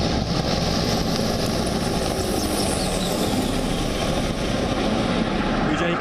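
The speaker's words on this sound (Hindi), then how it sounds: "विजय की गर्जना करते फाइटर जेट।" A Rafale fighter jet roaring overhead during a Republic Day flypast above Rajpath, a loud, steady broadband engine roar that fills the whole span without letup.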